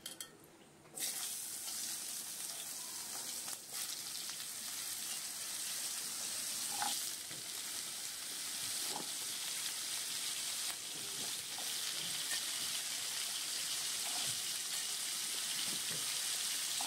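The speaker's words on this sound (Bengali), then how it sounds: "আলু কুমড়োগুলো আমি একটু ভাজা করে নেবো ভালো করে।" Potato and pumpkin pieces fry in mustard oil over a tempering of bay leaf and dried chilli, giving a steady close sizzling hiss that holds unbroken for most of the stretch, with a few soft clicks and no talking.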